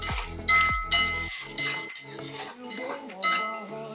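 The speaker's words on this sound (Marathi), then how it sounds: "हे पनीर याच्यामध्ये मिक्स करायचं आणि हे सुद्धा चांगलं परतून घ्यायचं।" Fried paneer is stirred into chilli sauce in a pan, a metal spoon clinking and scraping against the pan in a series of sharp, irregular taps and rattles, close and alone.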